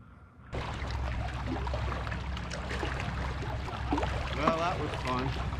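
Kayak paddling out on Flathead Lake in Montana, with steady wind and water wash throughout and a few soft, irregular splashes and drips from the paddle, close by.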